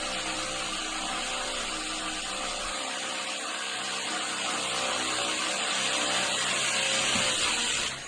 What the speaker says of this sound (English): blasted a half-inch hole through a piece of broken cinder block